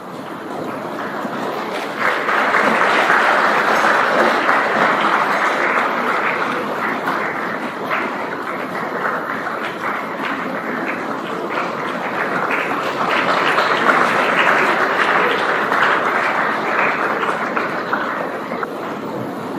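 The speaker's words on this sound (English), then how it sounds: "give him a huge round of applause as he enters the auditorium" An auditorium audience claps steadily as the chief guest walks in at a large official event, the applause building into a dense, continuous roar that holds for nearly twenty seconds, with no speech.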